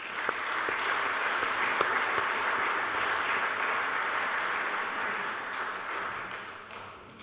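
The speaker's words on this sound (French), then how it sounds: "Je vous invite pour cela à les applaudir chaleureusement." A formal assembly in French Polynesia gives warm applause in tribute to its former members, a broad sustained clapping from a large hall that swells early, then slowly fades toward the end.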